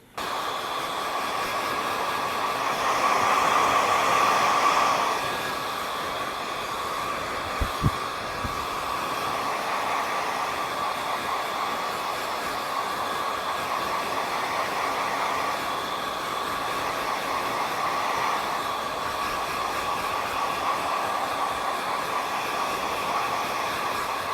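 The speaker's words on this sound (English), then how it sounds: "Now watch when I blow dry this." A hair dryer blow-dries freshly cut sweeping bangs, giving a steady, loud, continuous whooshing drone with a brief rise early on and a couple of small knocks partway through.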